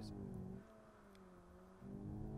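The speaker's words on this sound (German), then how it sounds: "Dann der linke Fuß auf der Bremse, Gas geben und Bremse loslassen." A VW T-Roc R makes a launch start in sport mode and accelerates hard, its engine note rising steadily and then climbing again after a brief dip, close and loud, with no speech.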